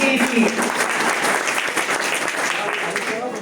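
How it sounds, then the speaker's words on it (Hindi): Classroom students applaud together in a dense, steady burst of clapping that stays loud and even from start to finish, with some voices mixed in. "एक जोरदार ताली होनी चाहिए आप लोगों की"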